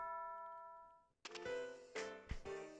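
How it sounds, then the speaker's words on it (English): A school bell chime from the video game Pokemon Moon rings as sustained electronic tones that fade out, followed by a burst of brighter, clattering game sounds. "Oh, that's a school bell."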